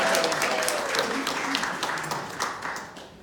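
Library audience of about sixty people applauding a speaker named Eileen, a fairly close, dense round of clapping that slowly fades toward the end.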